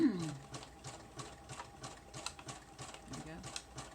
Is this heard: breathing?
no